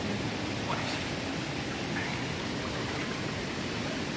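Kawasan Falls in Cebu makes a soft, steady rushing roar of falling water, continuous and fairly faint, as if heard from a short distance.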